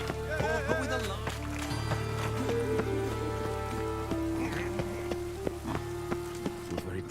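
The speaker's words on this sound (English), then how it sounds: "Raining again." Steady rain falling in The Witcher 3 Wild Hunt, a soft continuous patter running under game music and scattered effects, with a voice speaking at times.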